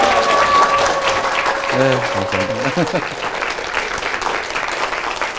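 Loud, dense audience applause welcoming the Seongnam mayor at a Harvard talk, continuous clapping filling the room while someone briefly says thanks over it.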